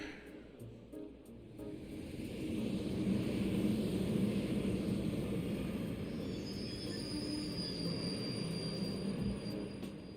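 Train wheels squeal on rails during a train ride in the video game Trails of Cold Steel, a low continuous rolling rumble with thin high squeal tones drawn out over it, steady and moderately loud.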